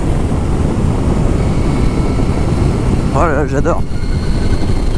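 An electric motorcycle rolls through a tunnel, giving off a constant loud wind-and-road rush with a rising whine that briefly warbles, while a rider speaks over it.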